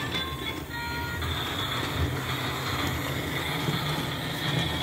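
A small amusement park train rolls along its rails with a steady, continuous rumble and clatter that holds at an even level throughout, with no talk over it.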